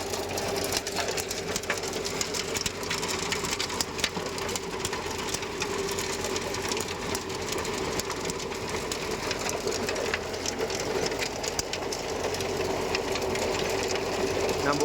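A Mahindra Yuvo Tech+ 585 tractor works a rotavator in a field, its engine droning steadily with a dense mechanical rattle throughout, loud and continuous with no talking.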